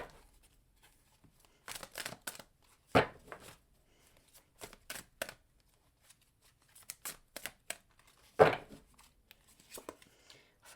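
Soft, brief riffles and snaps of tarot cards being shuffled in several quick bursts, separated by quiet pauses.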